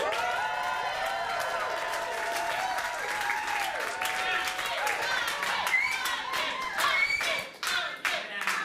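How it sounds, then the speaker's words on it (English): Audience clapping and cheering during a crowd poll for a candidate, sustained dense applause with scattered shouts, sharper individual claps standing out near the end. "if you are trending towards Alfred Brown, let me hear a cheer"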